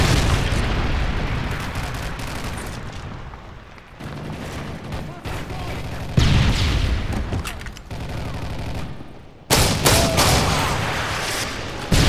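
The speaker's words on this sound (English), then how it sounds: "Predator missile inbound." A Predator missile strike in Call of Duty MW3 lands amid a dense, loud wash of booms, explosions and gunfire that surges and drops several times, with a voice talking through it.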